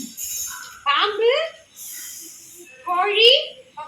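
A child imitates a snake with a voice: two short hissing, breathy bursts with voiced sounds, separated by a quieter hiss, in a mimicry game where animal calls are copied one after another.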